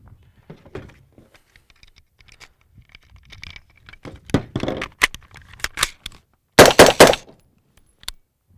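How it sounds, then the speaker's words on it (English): Three sharp gunshots from an M4-type rifle fired at a target, spaced closely near the end and preceded by faint handling clatter and quiet movement. "I'll go through readying the firearm and put 3 shots into the target"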